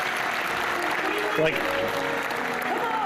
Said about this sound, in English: when there's a moment of actual Disney magic, you have to clap